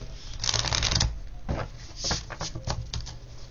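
Oracle cards are shuffled in close, crisp riffling bursts, then cut with a few quick slaps and shuffles, no speech over them.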